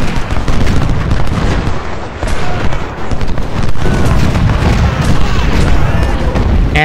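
Massed musket volleys and booming cannon fire from a Civil War battle at Prairie Grove in Ultimate General Civil War, a dense, continuous roar of gunfire and artillery with a faint murmur of voices beneath.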